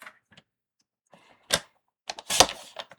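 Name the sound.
trimmer cutting quilt fabric pieces in half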